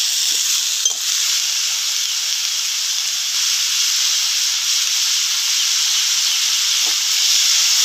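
Shrimp and bottle gourd stems fry in a pan for a Bengali lau shak chorchori, giving a steady, close, unbroken sizzle and hiss with a few faint stirring knocks and no talk.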